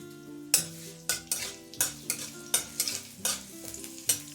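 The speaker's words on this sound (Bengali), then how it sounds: "রসুনটা যেন একটু ব্রাউন কালার হয় ততক্ষণ ভেজে নেব" Chopped garlic fries in mustard oil with a bay leaf and radhuni spice in a kadai. A gentle sizzle runs throughout, and a spatula scrapes the pan in regular close strokes with no talk.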